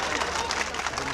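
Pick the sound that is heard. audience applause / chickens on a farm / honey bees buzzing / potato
audience applause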